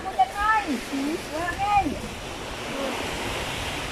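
Ocean surf at Taris Beach in Bato, Catanduanes washes steadily in the background while voices speak and exclaim over it in the first half.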